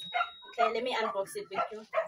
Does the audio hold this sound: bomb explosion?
no